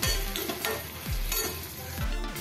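Crushed garlic cloves sautéing in a pan for stuffed bitter gourd, a steady close sizzle broken by low scraping strokes of a spoon at a regular pace, with no talking.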